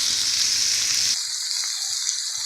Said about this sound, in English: make some room to fry my eggs